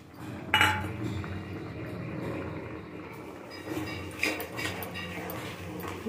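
A spoon scrapes and clinks against a pot while sugar is stirred into simmering tomato chutney, soft close metallic knocks and scraping at an uneven pace with little talk.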